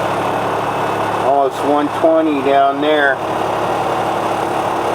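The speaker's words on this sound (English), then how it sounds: "It's been idling for like 20 minutes." A crane truck's diesel engine idles steadily after running for about twenty minutes, a constant low drone under someone talking close by.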